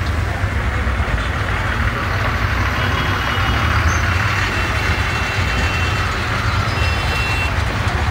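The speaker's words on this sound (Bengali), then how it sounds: "জ্যামের মধ্যে আমরা আছি।" A traffic jam of trucks, buses and cars at a busy roundabout near a road bus station in Habiganj: dense, constant engine rumble and road noise, close and loud, with faint beeps in the mix.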